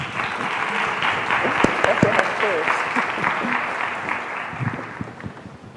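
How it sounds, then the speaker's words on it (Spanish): Warm applause from an audience at a Colegio Médico talk on gender-focused research, welcoming a former health ministry official; steady, dense clapping fills the whole stretch with a few voices mixed in. "La recibimos con un caluroso aplauso."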